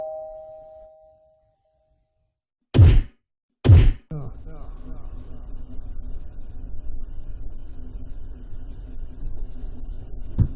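A refrigerator compressor gives two sharp knocks, then settles into a steady low hum that runs on alone in a quiet room.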